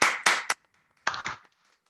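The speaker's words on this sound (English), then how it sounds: "Ah, that's a clap." Brief applause from an online open mic poetry audience unmuting: two short bursts of a few hand claps, close and sharp, separated by silence.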